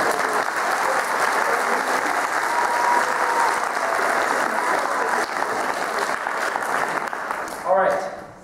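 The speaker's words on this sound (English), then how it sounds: "I'd like to give a round of applause to Stanley Hahn" Audience applause at a senior solo concert, a thick, sustained round of clapping from a crowd that fades near the end as a voice briefly cuts in.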